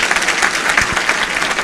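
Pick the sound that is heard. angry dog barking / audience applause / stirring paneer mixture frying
audience applause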